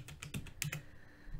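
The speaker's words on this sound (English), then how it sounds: "So I'm just going to type Adobe" Computer keyboard being typed on: a short, quick run of close, crisp key clicks, fairly quiet and irregular in rhythm.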